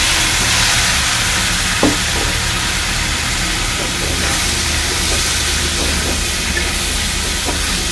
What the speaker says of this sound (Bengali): এবার তেলটা পুড়ে যাচ্ছে, এর মধ্যে দেবো আলু আর ডাঁটাগুলো।